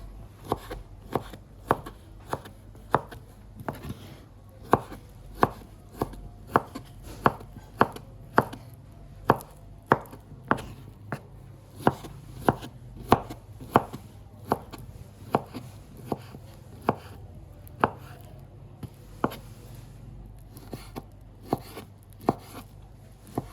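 A knife slices plantain on a cutting board in a steady series of sharp, close chops with an even rhythm, each stroke a distinct tap, with no talking.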